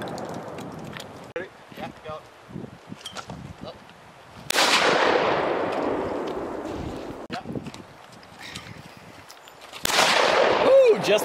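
Tristar shotgun fired at an outdoor shooting range: two loud, sharp blasts several seconds apart, each followed by a long decaying tail, with scattered voices and small handling noises between the shots.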